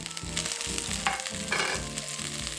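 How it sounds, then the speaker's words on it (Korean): Napa cabbage tossed into a pan with green onion and stir-fried, a brisk close sizzle with quick scraping strokes of the spatula, no voices. "배추도 넣고 볶아주세요."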